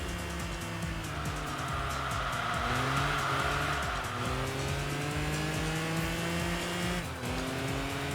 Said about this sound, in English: There we go, a little bit of wheel spin.